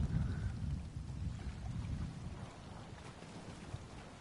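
Steady rainfall in The Elder Scrolls Online, a continuous soft patter with a low rumbling undertone like distant thunder, moderately loud at first and easing slightly, with no voices.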